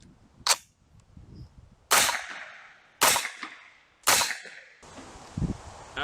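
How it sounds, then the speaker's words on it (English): Suppressed MP5 submachine gun firing, five sharp muffled cracks spaced roughly a second apart, each with a short ringing tail, outdoors at moderate distance. "After shooting both the MP5 SD 8-inch and then the CGS K can"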